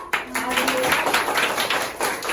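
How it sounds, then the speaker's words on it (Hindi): A classroom of children clapping together during a parents–teachers meeting lesson, a dense run of quick, fairly loud claps lasting throughout, with voices mixed in. "ताली बजाओ"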